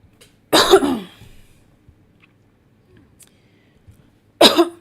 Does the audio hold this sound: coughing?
yes